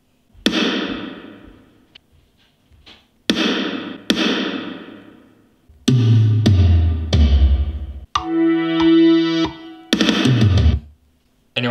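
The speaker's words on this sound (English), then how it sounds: "add this kind of drum solo." A GarageBand drum solo with heavy reverb and boosted treble plays alone. It has punchy, distorted hits and short rolls in an uneven pattern, separated by brief silences, with a ringing sustained tone near the end.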